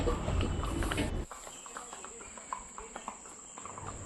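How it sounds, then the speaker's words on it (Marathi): Hooves of a pack horse carrying goods clip-clop on a path in Matheran at a walking pace, moderately near, after a brief burst of louder noise. "मालाची वाहतूक करण्यासाठी असं घोड्याचा वापर केला जातो"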